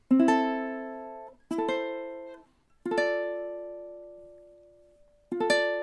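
Ukulele plucking a short melodic phrase across measures one and two, then repeating them, in four separate ringing note clusters with sustained decay between attacks, played solo and close with no voices.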